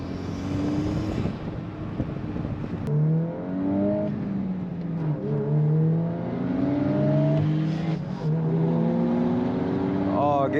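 A 2024 Volkswagen Golf R with a manual gearbox and turbocharged engine pulls hard through the gears, revs rising and dropping with each shift, heard from inside the cabin over steady road and wind noise.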